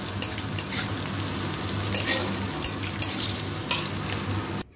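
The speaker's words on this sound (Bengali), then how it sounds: "একটু ভালো করে ফ্রাই করে নেব এটা, ঢ্যাঁড়সগুলো" Okra fries in oil in a pan, a loud steady sizzle broken by several distinct scraping strokes of a spatula stirring it, close and without voices.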